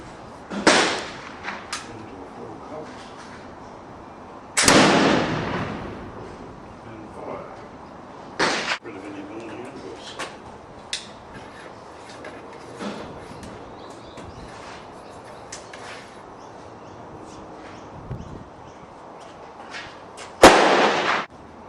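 A Brown Bess flintlock musket is fired outdoors several times, each shot a loud, sharp crack with a rushing tail, separated by long pauses with quieter handling sounds and some talk.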